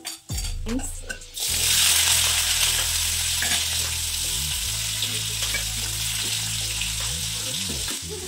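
Mustard seeds and cumin hit hot oil in a pan, bursting into a loud, close sizzle after a brief clatter, then frying steadily with faint popping and occasional stirring scrapes.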